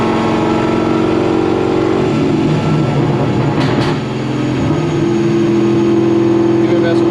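A cammed Corvette Z06 V8 drones loudly as it accelerates on the road, a steady low rumble with shifting engine tones and a brief dip midway, under the cabin noise.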